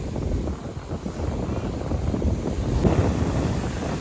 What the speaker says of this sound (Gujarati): જોઈ લો, દરિયો તોફાને ચડ્યો.